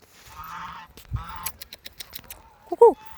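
A duck lets out a short, loud honking quack near the end, after a stretch of quieter murmuring and scattered clicks.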